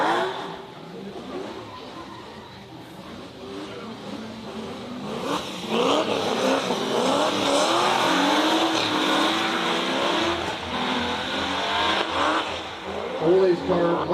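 Drift cars at a drifting event rev and slide with a steady roaring engine note and rising throttle bursts, tires squealing as they swing through, under continuous live commentary.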